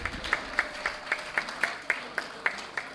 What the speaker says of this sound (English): please give our volunteers another round of applause